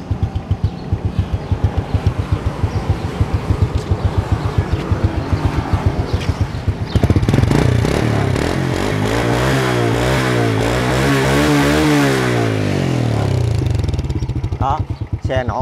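A Honda Wave Alpha motorcycle engine runs nearby with a fast, steady putter, then rises and falls as the throttle is blipped.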